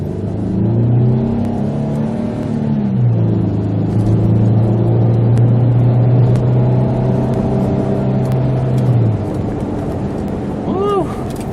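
A 2001 Infiniti QX4 with its 3.5L engine pulls away after a tune-up with new spark plugs, a steady loud engine drone with rising and falling tones as it shifts, heard from inside the vehicle.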